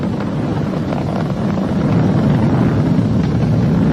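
A SpaceX Falcon 9 rocket roars during ascent as it passes supersonic speed, a steady low rumbling wash heard from afar, rough and wind-like, holding level and swelling slightly over a few seconds with no voices.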